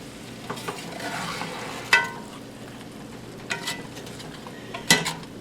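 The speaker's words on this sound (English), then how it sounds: "You just want to make sure you turn these over once, make sure they're in the sauce." Meatballs simmering in a sauce of canned mushroom soup with onion and vegetable juices, a quiet continuous sizzle and bubbling broken by a few sharp scrapes and clinks of a utensil turning them in the pan.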